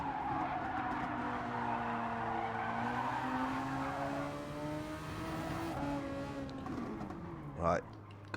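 A Super Formula race car in McLaren livery at Autopolis passes with a loud engine whine that sweeps down in pitch, tires squealing, followed by a brief sharp burst near the end.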